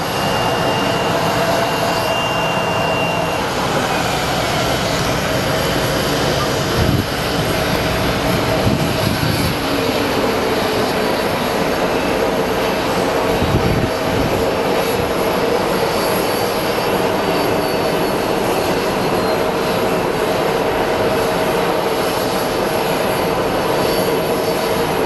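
Airplane jet engines at Sky Harbor International Airport in Phoenix produce a loud, continuous roar with a broad rumble that swells slightly midway, steady and without talk.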